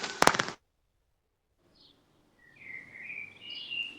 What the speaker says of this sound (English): I can hear the birds singing from your side